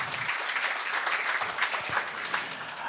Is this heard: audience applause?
yes